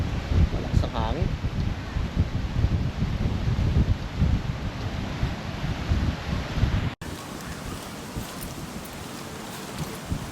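Strong wind at a beach buffets the microphone in a continuous loud rumble and rush with gusty surges, while people talk faintly underneath.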